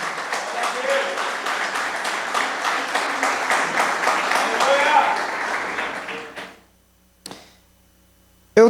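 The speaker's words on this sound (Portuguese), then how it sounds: "Aplauda ao Senhor." Church congregation applauding together during a service, a dense burst of clapping that swells and then fades out, followed by a few isolated knocks.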